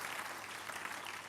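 Applause from a church congregation at a spiritual revival service, a steady, dense patter of clapping filling the short moment without a break.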